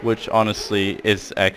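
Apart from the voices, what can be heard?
No distinct noise like a dog, phone or traffic.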